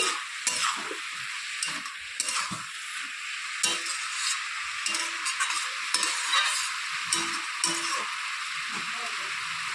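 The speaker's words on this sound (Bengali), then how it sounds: "আবার একটু নেড়ে চেড়ে দিচ্ছি" Red cabbage with sugar is stirred in a pan over a steady background sizzle, with soft repeated scrapes and taps of a spoon. It is fairly quiet and continuous, with no speech.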